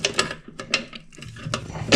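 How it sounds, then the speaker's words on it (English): A stubby ratchet wrench working a stubborn nut on a drain cleaning machine, quick repeated ratchet clicks in short bursts, close and clear with no talk. "ratchet wrench."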